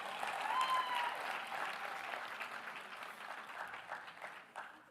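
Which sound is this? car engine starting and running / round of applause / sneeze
round of applause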